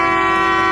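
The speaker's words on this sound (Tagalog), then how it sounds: "Bumusina na yung boat guys. Narinig nyo yun, ang lakas." Boat horn on a Philippine passenger boat sounding a loud, steady tonal blast before boarding, a single sustained note lasting the whole moment with no talk over it.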